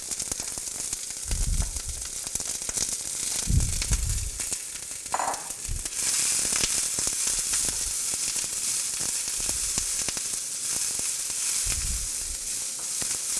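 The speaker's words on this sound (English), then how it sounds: "already preheated, so it's got that nice sizzle." Onions frying in a preheated pan, a steady crackling sizzle running throughout, close and loud, with a few low thumps and clatters of cookware.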